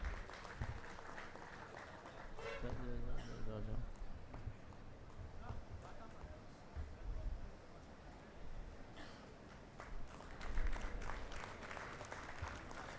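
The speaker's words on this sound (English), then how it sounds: "A big round of applause, please, for all the students who are receiving" An audience at a university convocation ceremony claps in long, steady waves for the graduating students, while an announcer speaks over the applause through a hall sound system.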